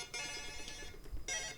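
A mobile phone ringtone plays even though the phone is set to mute, a bright repeating electronic tone pattern that cuts in and out over about a second and a half with a low background hum.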